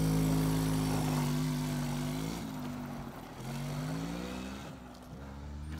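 A four-wheeler ATV engine hums close by and rises and falls through several throttle changes, a steady low motor note with no talk over it.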